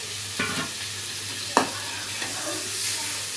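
Pieces of raw hilsa fish in a pan with green chilies and chili powder, a soft steady sizzle broken by a few sharp scrapes and clinks of a spatula turning them, close and fairly quiet.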